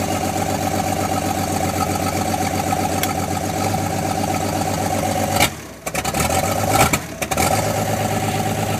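A cold demolition derby car engine idles with a steady, rough drone, then briefly stumbles and cuts out twice near the end as it is revved, with no voices.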